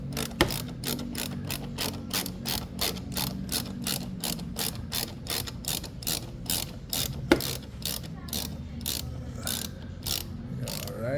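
Ratchet wrench clicking steadily while loosening a fastener on the air filter housing of a 2023 Mitsubishi Xpander, a close, rapid run of sharp ticks lasting throughout.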